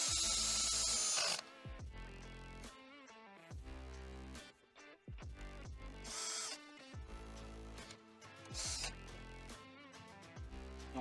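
A power drill whirs in repeated bursts, revving up and winding down between short pauses, with a rattling ratchet sound as it drives bolts close by while assembling an aircraft propeller hub.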